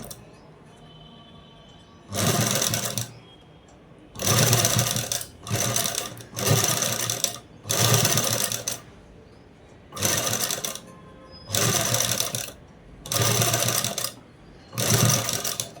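Sewing machine stitching thin lace onto a blouse: eight bursts of rapid, whirring stitching, each lasting about a second, separated by short pauses, close and clear with no talking over it.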